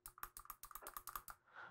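An arcade button's microswitch clicks under repeated presses, a quick run of about a dozen crisp, close, evenly spaced clicks with no voices.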